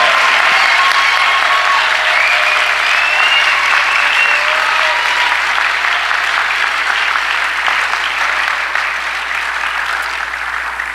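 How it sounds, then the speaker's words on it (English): Sustained loud applause from a large commencement audience for a graduating class, a continuous roar of clapping that holds steady and eases slightly toward the end, with faint tonal sounds threaded through. "Let's have another round of applause for the 2019 graduating class."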